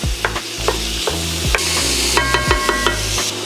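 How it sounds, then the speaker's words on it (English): Ground pork sizzles loudly in a pan while a flat-edge wooden spoon breaks it up, a steady close hiss punctuated by a regular series of sharp knocks and scrapes of wood on the pan. "Now you want to get yourself a wooden spoon, and look, we're gonna use this to break it up."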